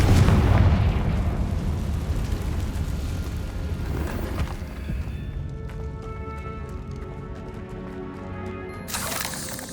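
A Confringo fire spell blasts in the game Hogwarts Legacy inside an abandoned mine, a loud booming explosion that rumbles and slowly decays, followed by fainter crackling debris and a brief final burst.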